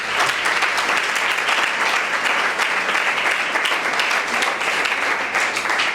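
Dense, vigorous applause from an audience at a leadership session for young people rolls on continuously and loudly for several seconds, close and unbroken.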